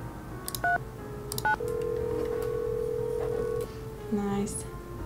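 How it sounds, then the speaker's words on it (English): Phone dialing in a Nancy Drew mystery game, with two short beeping touch-tones, a long steady dial tone, then a lower tone near the end, over a low background hum. "Oh, this would be a cool phone to have. Oh, let's call, Hannah"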